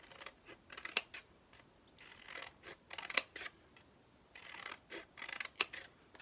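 Sharp scissor snips cutting through paper, a few distinct cuts spaced out with quieter rustling between, close up and fairly soft.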